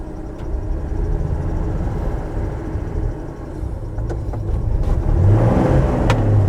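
A 1967 Ford F100 truck engine runs with a steady low drone that swells as the throttle is raised, heard close and without talk.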